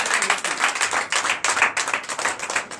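A church congregation applauds during a Sunday worship service, with dense, continuous clapping that rises and falls in rhythmic waves throughout, close and lively, and no clear talk over it.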